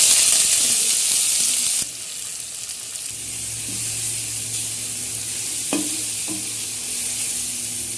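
Cinnamon, cloves, cardamom, fennel seeds, curry leaves and onion frying in hot oil give a continuous sizzle, with a few stirring scrapes and clinks close by.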